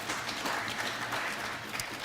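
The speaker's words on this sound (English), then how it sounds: "Can you give them a round of applause?" Applause from an audience at a senatorial debate held at a university, a dense, steady wash of clapping filling the whole moment at moderate distance.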